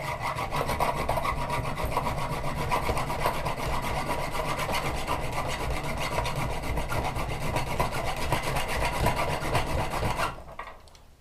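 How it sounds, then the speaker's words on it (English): A hand file works a steel trap in steady, rapid strokes, producing a continuous close rasping that runs for about ten seconds before stopping abruptly. "so I just take a file"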